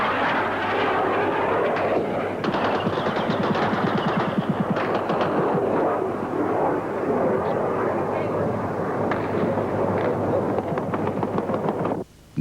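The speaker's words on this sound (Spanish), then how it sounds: "Contestan nuestras baterías antiaéreas y se ve el refulgir de sus disparos en el aire." Anti-aircraft guns fire as Harrier jets attack an airfield: a loud, continuous roar of jet engines overlaid with bursts of rapid automatic gunfire, dense and close, with a narrator speaking over the battle noise.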